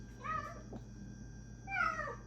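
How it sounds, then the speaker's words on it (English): A cat named Bagheera meows twice in the background of a room, two drawn-out, wavering cries about a second and a half apart, fairly close, with no talking. "Sorry for that meowing in the background"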